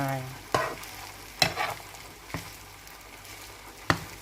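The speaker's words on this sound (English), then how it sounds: "So you just fry" Fried rice sizzles in a pan as it is stirred, with a quiet hiss broken by four or five sharp scraping knocks of the utensil, close up with no talk.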